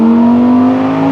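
A Lamborghini Huracan EVO Spyder supercar engine holds a loud, steady, rich mechanical drone close up, a smooth sustained note without distinct pops or bangs, and no one speaking.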